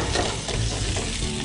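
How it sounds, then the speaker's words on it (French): Onion and other vegetables frying in hot olive oil, a dense steady sizzle with faint stirring, close and continuous with no talk. "Une fois l'huile d'olive bien chaude, on met les légumes au fur et à mesure"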